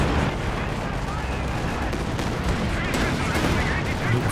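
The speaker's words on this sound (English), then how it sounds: "here comes a creeping barrage" Creeping artillery barrage in Company of Heroes 2, a 2v2 battle on a Siberian map: a continuous wall of shell blasts and rolling rumble with overlapping detonations, steady and loud throughout.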